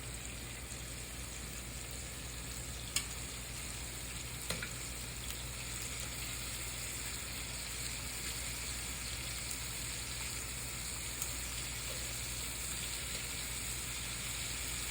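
Chicken drumsticks braising in a pan give off a steady, continuous sizzle and crackle of frying, close and even throughout, with a couple of faint clinks and no voices.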